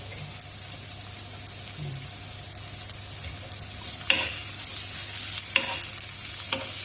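Ginger and garlic fry in a pan with a steady hiss while a utensil stirs them, giving a few sharp scraping clacks toward the end over a low background hum, and no one speaks.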